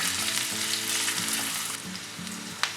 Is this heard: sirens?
no